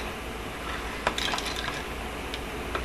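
Soft wet squishing and faint clinks as a debubbler tool is stirred through jars of pinto beans in canning liquid, a few brief scrapes and taps over a quiet hiss of background noise.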